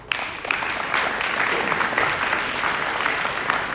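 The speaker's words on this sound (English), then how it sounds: "parents, grandparents, family members, please give yourselves a round of applause" Sustained audience applause from parents, grandparents and family members at a college signing day, a dense steady wash of clapping lasting throughout with no voices over it.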